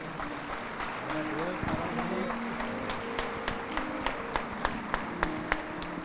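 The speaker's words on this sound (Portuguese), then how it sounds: "Vamos aplaudir o Senhor." A church congregation claps during an evening Portuguese-language worship service, steady applause under continuous talk and music, with a run of sharper, evenly spaced claps toward the end.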